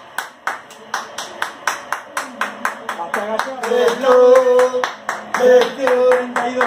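Rhythmic, evenly spaced stadium clapping with voices chanting over it, as a crowd salutes substituted player Ignacio Coco at a River vs Olimpo Superliga Argentina match; the claps are loud and close, then blend into sustained chanting and talk.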